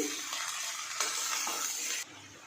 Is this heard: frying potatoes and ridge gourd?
yes